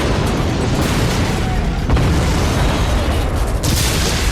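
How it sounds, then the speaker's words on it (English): A gunboat explodes in a massive, continuous roaring blast, a dense wall of rumbling booms with sharp secondary bursts close and loud throughout, with no talk. "In a split second, 4 other massive explosions encompassed the body of the gunboat."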